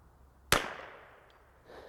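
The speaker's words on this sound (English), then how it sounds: "I just shot what I needed to get this kind of doped in" A single sharp crack from a CZ 457 .22LR precision rifle fired at a target outdoors, fairly close, with a short fading tail and quiet surroundings.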